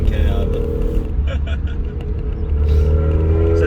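A Mazda Eunos engine drones steadily as it revs high while driving, with a loud, sustained, deep rumble heard close up from inside the car.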